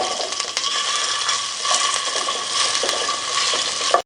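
Ginger fries in about a tablespoon of hot oil, giving a loud, continuous crackling sizzle with light stirring scrapes throughout.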